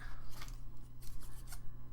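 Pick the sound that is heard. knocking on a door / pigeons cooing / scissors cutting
scissors cutting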